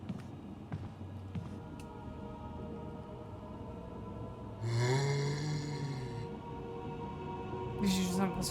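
Zombie in the Resident Evil 1 mansion letting out a low, drawn-out groan like a yawn, loudest near the middle and again briefly at the end, over a constant dark ambient hum.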